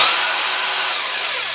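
A cordless drill runs in plain drill mode with the hammer action off: a loud, continuous, close-up whirring buzz that stays fairly even throughout the short burst.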